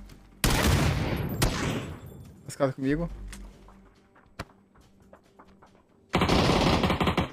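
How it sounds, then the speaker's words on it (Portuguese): Bursts of gunfire from two different guns in PUBG, a loud rapid automatic volley early on and another near the end, with a brief talking voice and scattered shots and footsteps in between. "Dois caras de arma diferente dando tiro"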